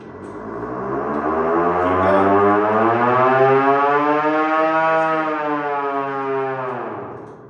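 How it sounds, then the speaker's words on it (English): A hand-cranked WWII-era air raid siren at an aviation museum winds up into a loud, sustained wail, its pitch rising and holding steady before slowly sagging as the cranking eases, heard alone with no talk. "That's what air raid sirens sounded like."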